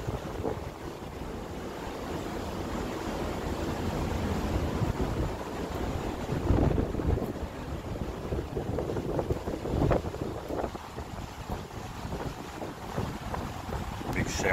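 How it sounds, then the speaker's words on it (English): Heavy rain storm with gusting wind, taken from a resort apartment balcony: a steady, dense broadband wash of rain and wind that swells in the middle and keeps going throughout, with no voices. "See the rain coming in."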